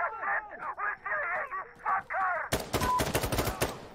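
Rapid gunfire in the video game Insurgency Sandstorm, a dense burst of loud shots cutting in after a stretch of other game noise, with no talk.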